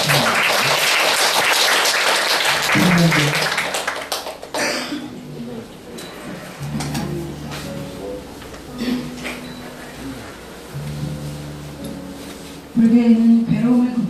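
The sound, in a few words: audience applause welcoming a speaker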